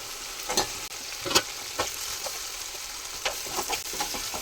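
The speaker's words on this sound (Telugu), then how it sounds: "ఇప్పుడు బెండకాయ ముక్కలు కూడా యాడ్ చేసుకుందాం" Okra pieces drop into a frying pan of prawns, giving a few clattering knocks over a steady, crackling sizzle, close by and with no voices.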